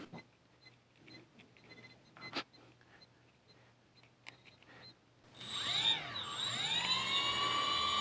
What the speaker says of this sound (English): now I can verify that all engines are running the correct way.